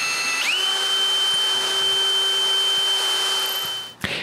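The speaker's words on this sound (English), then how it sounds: "mark for 1 hole on each side, and drill pilot holes" A power drill spins up and runs with a steady high whine while boring pilot holes for hinge screws on a wooden TV wall support, then stops abruptly near the end.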